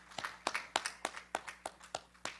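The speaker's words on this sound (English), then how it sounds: "we'll give you a round of applause" Sparse, faint applause from a small audience at a Missouri Photo Workshop retrospective exhibit celebration, a handful of separate claps in an irregular rhythm heard from a moderate distance.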